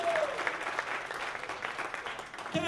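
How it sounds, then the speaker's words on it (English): Conference audience giving a big round of applause, dense continuous clapping filling the room for a few seconds, with a voice briefly heard over it. "Give yourselves a huge giant round of applause for making this happen."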